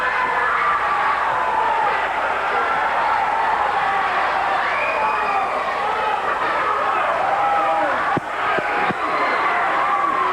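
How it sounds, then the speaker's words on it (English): A crowd at a 1987 high school volleyball match between Turtle Lake and Clayton, a loud, continuous roar of murmuring and raised voices filling a gym, with a brief sharper clatter near the end. "the crowd seems a little upset with Pauline Merce's call that time"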